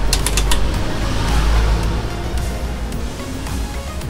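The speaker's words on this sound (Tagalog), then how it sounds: "Tayo natin yung electric fan." An electric fan runs close by with a continuous, even whirring rush, marked by faint light creaks and rattles from its mechanism.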